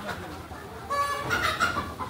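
Rhode Island Red chickens cluck on a farm, a few short, fairly close calls rising over soft background noise.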